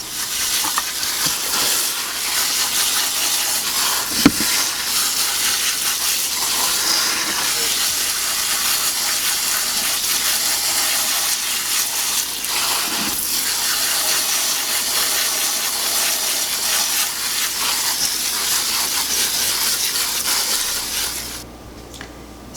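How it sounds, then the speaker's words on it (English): Running tap water pours steadily over white clover flowers being rinsed, a loud, continuous hissing rush with faint clicks and handling, close by, stopping just before the end. "So let me get these rinsed off, and then I will get them onto the tray."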